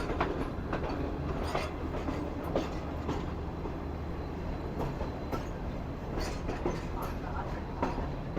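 A train rolls over a meter-gauge and broad-gauge diamond crossing near Mirpur Khas, its wheels clacking in repeated sharp knocks over a loud, continuous rumble that runs throughout.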